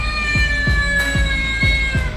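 A cat meows repeatedly while facing off against a snake, with four or five loud, close, drawn-out calls in a steady rhythm over constant background noise.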